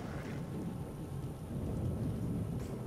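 Steady rain with low rumbling thunder from The Witcher video game, a continuous dense wash of rainfall under a deep rolling rumble, with no voices.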